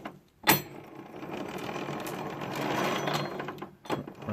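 A Yard Machines MTD 8 HP 24-inch snow blower running with its cleaned friction drive wheel turning, a steady mechanical whir and rattle, close by, framed by sharp clunks at start and end.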